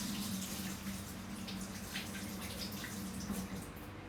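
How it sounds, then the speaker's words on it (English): Tap water runs steadily into a kitchen sink for a quick hand wash after handling raw eggs, a soft, even rush that continues unbroken with no one talking. "Okay, quick hand wash."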